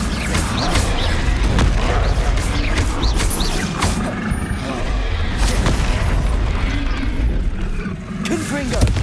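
Bombarda spell blasts in Hogwarts Legacy burst repeatedly amid clattering combat, heavy booms and crashes piling over one another in a dense, loud stretch, with a voice calling out during the fight.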